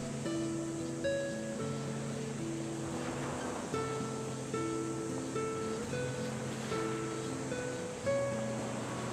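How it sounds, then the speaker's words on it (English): Waves wash onto a wide beach in the Paranormasight game, a soft rolling surf swelling and receding under sustained musical tones, with no speech. "blanketed by the sound of waves"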